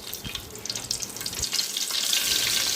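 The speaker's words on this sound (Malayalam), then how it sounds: "കറി വെക്കാനായി ഒരു ഉരുളി അടുപ്പത്ത് വെച്ച് എണ്ണ ഒഴിച്ച് അതിലേക്ക് കറിവേപ്പില ഇട്ട്" Curry leaves crackle and sizzle as they drop into hot oil in an uruli pot on the stove, with the sputter swelling louder and steadier toward the end.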